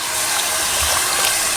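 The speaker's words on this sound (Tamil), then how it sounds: "கொஞ்சமாக தண்ணி ஊற்றிக்கலாம்" Water is poured into potato masala in a cooking pan, giving a brief, steady splashing gush. It is close and fairly loud, with no talking.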